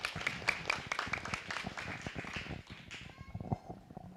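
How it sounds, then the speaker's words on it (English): Audience applause at a 4-H and FFA county fair poultry show, a steady patter of many hands clapping at moderate distance for a few seconds, then fading. "Let's give him a nice round of applause."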